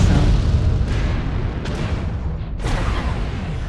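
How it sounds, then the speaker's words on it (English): Missile explosions in the MechWarrior Online video game rumble as a dense, loud, continuous barrage, with several sharper booms bursting through the steady roar. "Warning, incoming missile."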